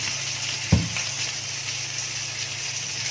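Bombil fish frying in ghee in a home kitchen, a steady soft sizzle with one brief louder clatter near the start, then an even low hiss, no talking.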